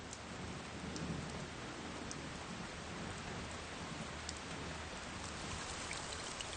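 Steady summer rain falls in Sanjiangyuan in a dense, even hiss, with scattered drops pattering on surfaces and no voices.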